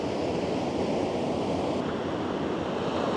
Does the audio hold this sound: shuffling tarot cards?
no